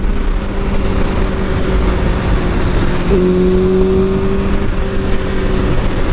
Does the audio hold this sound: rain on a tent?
no